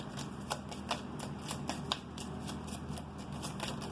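Tarot cards being shuffled and drawn for a daily reading, a steady run of soft papery flicks and riffles with sharper snaps roughly every half second, close by over faint room noise.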